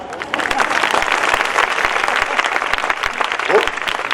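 A church congregation claps during a revival sermon, a steady and dense burst of applause that continues throughout at an even level.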